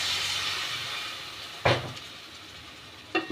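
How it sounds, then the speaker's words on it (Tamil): A glass of water hits a hot pan of dhalcha with drumsticks and dal, giving a loud hiss that fades away, followed by two sharp clatters nearby. "ஒரு கிளாஸ் தண்ணி ஊற்றிக்கலாம்."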